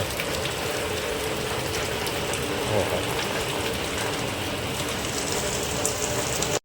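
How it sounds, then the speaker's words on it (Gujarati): Steady, dense monsoon rain in a village hisses and patters on a surface without pause, a continuous wash of sound. "વરસાદ આવી ગયો"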